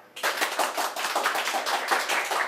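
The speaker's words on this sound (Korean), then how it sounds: "문현우 대표님을 박수로 한번 모셔볼게요" An audience at a Korean lecture show bursts into applause to welcome a speaker: dense, fairly loud clapping from many hands that starts abruptly and carries on steadily to the end, with no talk over it.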